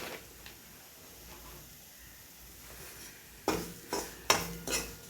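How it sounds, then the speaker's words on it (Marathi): Coarse semolina roasting in ghee, quiet at first, then several sharp metallic scrapes of a spoon against the pan near the end. "पहिलं तूप घातलेलं आहे, त्यावरती मी रवा परतून घेत आहे."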